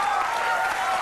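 Studio audience at a late-night comedy monologue applauding, a dense, steady wash of clapping that fills the whole moment at close range.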